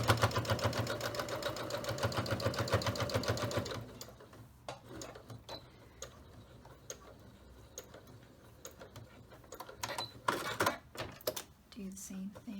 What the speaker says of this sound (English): And then just sew all the way down,